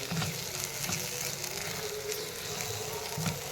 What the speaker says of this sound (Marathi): चवीनुसार मीठ आणि पुन्हा एकदा व्यवस्थित परतून घ्यायचं